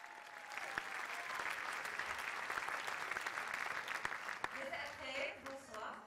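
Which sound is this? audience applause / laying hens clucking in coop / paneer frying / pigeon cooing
audience applause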